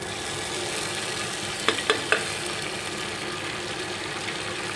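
Tomatoes go into lightly fried onions in a pan. There is a steady sizzle and a few quick clinks of a spoon stirring, and no one talks.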